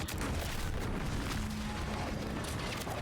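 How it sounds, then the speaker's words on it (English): In the video game The Outer Worlds 2, an explosion rolls out as a muffled, rumbling boom that lingers as a dense, continuous roar, fairly faint and heard alone. "What's that? An explosion?"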